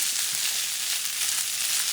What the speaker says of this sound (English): you want to continue frying until you have most of the moisture out of your fried rice